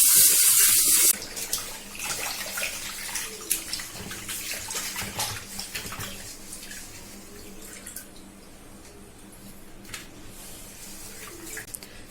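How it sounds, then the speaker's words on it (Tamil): Water is poured into a bowl to rinse pieces of shark fish. A loud gush at first gives way to steady splashing and trickling with scattered drips, close by and without talk. "திரும்பவும் 2-3 தடவை இது மாதிரி தண்ணி ஊற்றி அலசி எடுத்துக்கோங்க."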